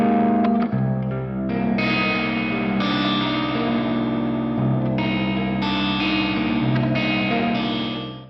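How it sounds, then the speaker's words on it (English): Clean electric guitar played through a Mercuriall Ampbox with chorus, delay and the reverb turned up, giving ambient tones; sustained chords ring out in washes, each new strum blooming over the lingering reverb tail, loud and alone. "Turn some of this reverb up."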